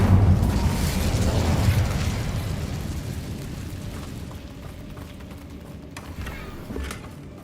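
An Incendio fire spell cast in the Hogwarts Legacy video game, a loud whooshing burst of flame that decays slowly into a rumbling tail.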